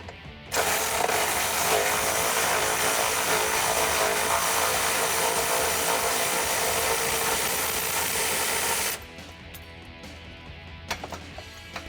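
A power tool with a 16mm socket whirs steadily and loudly for about eight seconds as it backs bolts out of a Jeep Wrangler JL rear bumper bracket, then cuts off, leaving faint clicks and handling noise.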